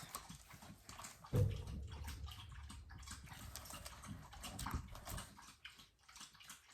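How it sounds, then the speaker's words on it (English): A large 95-pound dog drinks water indoors, with sloshing, lapping sounds that start abruptly and continue steadily at moderate volume and close range, alone and without talk. "Can a 95-pound dog drink water?"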